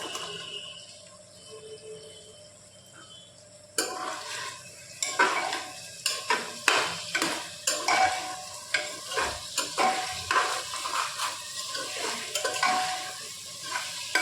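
Potatoes and masoor dal stirred in hot oil, a quiet start giving way to loud sizzling with repeated spatula scrapes and clinks against the pan, close up.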